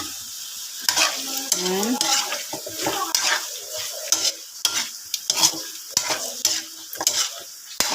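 Chicken stirred and fried in a pan with seasonings, steady sizzle under repeated utensil scrapes and clinks against the pan, close up, with a brief spoken word.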